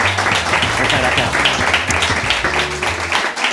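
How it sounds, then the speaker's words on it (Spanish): Studio audience applause during a Spanish TV show, dense sustained clapping mixed with voices and background music, loud and continuous. "Un aplauso, por favor, si son ustedes amables."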